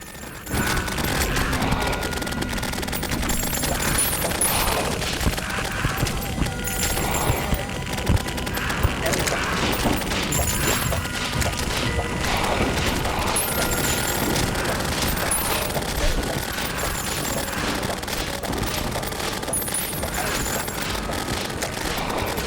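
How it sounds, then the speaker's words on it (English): Turrets in Terraria Calamity fire continuously during a Pumpkin Moon and Frost Moon night wave, a dense unbroken clatter of rapid shots and impacts layered with game music, steady and loud throughout, with no talk. "The turrets do keep going."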